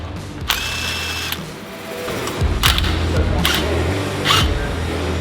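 Ratchet loosening bump stop bracket bolts on a Toyota Tacoma, a few quick bursts of rapid metallic clicking separated by pauses, close and fairly loud, with someone speaking between them.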